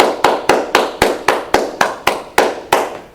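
Two hands clap in a steady rhythm, about eleven sharp, loud claps in roughly three seconds, each one ringing briefly. There is no talk.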